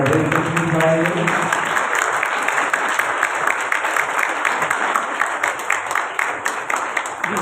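An audience at the opening ceremony of the Bible Marathon 2025 applauds a guest priest with sustained, dense clapping, and a voice speaks over the start of it.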